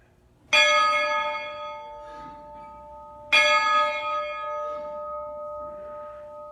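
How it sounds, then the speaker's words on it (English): The bell of a 1910 Baldwin wood-burning steam locomotive is rung twice, each clear metallic strike ringing out and slowly fading, loud and close with no talk. "I will ring the bell."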